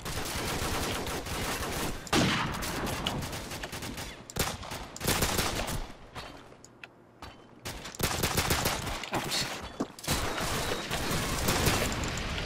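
Gunfire in the Call of Duty 4 video game, played against bots, with repeated loud bursts of rapid automatic shots and single cracks separated by short quieter gaps, no talk.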